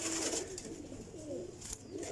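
A pigeon gives a short, soft, throaty coo, then a second rolling call, faint and close, with no voices.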